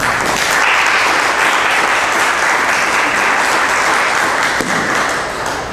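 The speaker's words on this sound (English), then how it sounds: "give them a round of applause" An audience at a legislative candidate forum applauds, giving a loud, sustained round of clapping that continues evenly for several seconds and thins slightly toward the end.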